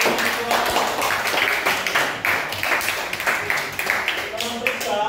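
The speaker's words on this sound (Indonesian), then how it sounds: "tepuk tangan dulu" Students in a class clapping for a presenting group, a busy overlapping patter of hand claps that is fairly loud and continuous, with voices talking underneath.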